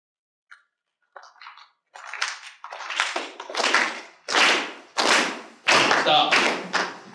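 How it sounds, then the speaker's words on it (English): A conference audience claps in unison, starting with a few scattered hits and quickly swelling into loud, dense bursts that fall into a shared, repeating rhythm. "in 5 seconds, everyone in the room was clapping the same rhythm"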